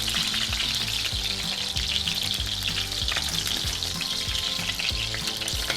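Beef rib pieces searing in hot oil for cabernet-braised ribs give a loud, steady sizzle close up, with a few soft knocks and scrapes as they are moved in the pan, and no talking.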